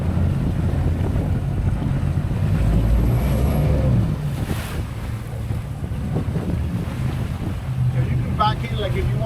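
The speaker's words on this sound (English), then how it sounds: "reverse full speed almost into these waves," A fishing boat runs in reverse at full speed into ocean waves, giving a loud, churning rumble of engine and water buffeted by heavy wind noise, with a surging wash partway through and faint voices near the end.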